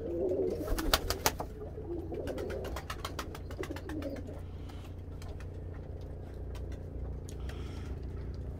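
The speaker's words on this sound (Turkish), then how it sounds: "Kuşlar bunlar abi" Pigeons coo softly and repeatedly over a steady low background hum, with a few sharp clicks near the start.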